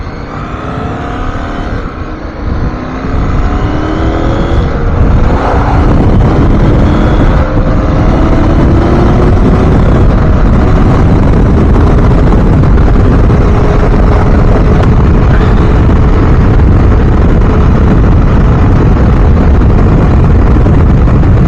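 A KTM 790 R motorcycle riding on a road, its engine droning loud and steady close by with rising and falling gear tones, joined by wind rush throughout.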